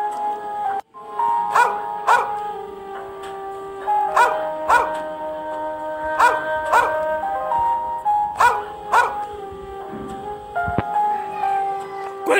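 A performer on stage in a drama imitates a dog, voicing a rhythmic series of loud, clear barks and yips that repeat close to the listener for the whole stretch with no other voices.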